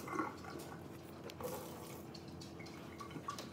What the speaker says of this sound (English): So I'm gonna put 5 milliliters of this water here.